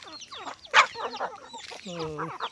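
A young fighting-breed rooster clucks several times in quick, uneven bursts, fairly close, with a slightly strained, squawky tone toward the end.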